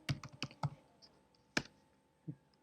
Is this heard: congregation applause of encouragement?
no